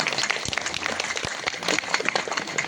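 Applause for the chief guest at an Uttarakhand Foundation Day celebration: dense, steady clapping from a crowd across the whole stretch, fairly loud with scattered sharp claps standing out.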